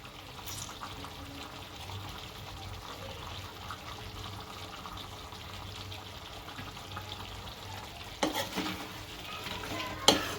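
Lemon juice gets stirred into a chicken biryani mixture, a faint, soft wet mixing and squelching with a few scrapes and a light clink near the end.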